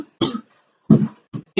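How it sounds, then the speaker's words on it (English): Three harsh, close coughs in quick succession, each a short burst separated by brief silence, with another starting at the very end. "Sorry about the coughing, though."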